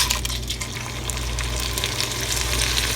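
A blended tomato mixture poured into a hot frying pan, hissing and sizzling loudly and steadily with bubbling liquid throughout, close by and without talk.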